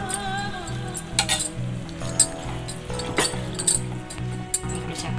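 Moong dal and its cooking water are poured into a pot of ridge gourd curry, with steady liquid splashing, glassy clinks and a few louder knocks from the utensils.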